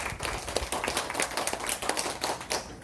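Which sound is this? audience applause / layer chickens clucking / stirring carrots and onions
audience applause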